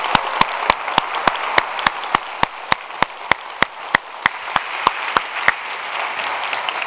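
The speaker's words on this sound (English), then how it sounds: "let's give them a round of applause one more time" Applause from a university lecture audience, with sharp, evenly spaced claps standing out over a steady wash of clapping.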